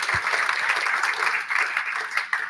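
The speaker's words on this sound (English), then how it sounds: "Round of applause for Karen, please." A pub audience at a political talk event applauds a guest with steady, dense clapping that carries through the whole moment, fairly loud and close, with a faint voice underneath.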